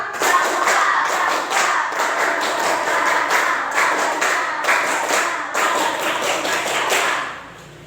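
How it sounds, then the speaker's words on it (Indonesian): A crowd does the Indonesian scout clap twice, a fast, steady rhythm of sharp beats repeated in sequence, fairly loud and close, ending abruptly. "Dua kali tepuk pramuka."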